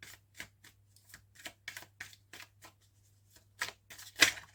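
Tarot cards are shuffled and dealt out for a cross spread, with soft, quiet riffles and light card slaps in an irregular series, ending in a sharper snap.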